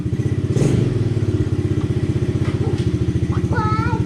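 A Chinese ATV engine runs with a steady, rapid low putter close by, with a brief thump near the start and a few faint higher squeaks and clatter toward the end.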